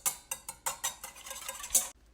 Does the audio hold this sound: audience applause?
no